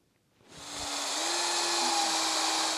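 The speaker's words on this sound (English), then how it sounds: "Drill a 3/4 of an inch hole in there" A step drill bores a 3/4 inch hole through the metal body of an MGB, giving a steady high whining grind that spins up quickly and holds on, loud and close.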